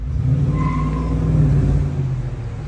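A car pulls up with its engine revving, a steady loud rumble that swells and eases slightly, heard close with no talking.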